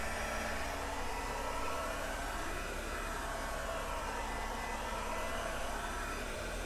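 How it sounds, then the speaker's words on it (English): Heat gun running at full power, blowing hot air over plastic held about an inch and a half away, a steady loud broadband roar lasting throughout without change, no talking. "I have my heat gun turned up all the way."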